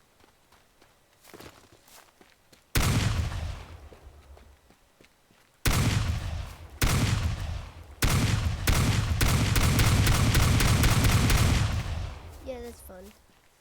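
Airstrike explosions in the video game Teardown come as loud, sudden blasts, several heavy bursts in quick succession followed by a long sustained rumble of destruction, with brief talk before them.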